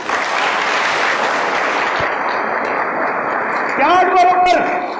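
An audience breaks into applause, a broad wash of many hands clapping held steady, before a voice starts speaking near the end.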